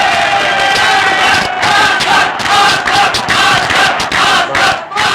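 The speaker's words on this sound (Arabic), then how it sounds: "زي ما احنا شايفين الجمهور بيحيي الفريق الاصفر اللي بيتقدمه زيزو" A large stadium crowd cheers and chants loudly for the yellow team, a dense, continuous roar of many voices that swells and dips with rhythmic shouts.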